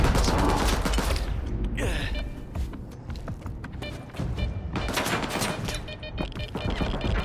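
Gunfire in the video game S.T.A.L.K.E.R. 2 Heart of Chornobyl, with dense rapid bursts of automatic shots, loud and close, in sustained volleys with brief gaps.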